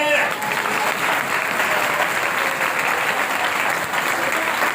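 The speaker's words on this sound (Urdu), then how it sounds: "ہاں تالیاں پروس کے لیے" A church congregation claps steadily during a New Year sermon, a dense, even burst of applause that holds loud and close for the whole stretch without dropping off.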